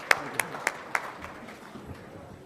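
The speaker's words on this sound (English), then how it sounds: "Give him another round of applause" At a Rotary club meeting, a few sharp, evenly spaced handclaps sound after a birthday song for Nicholas, then quickly fade into quiet room noise.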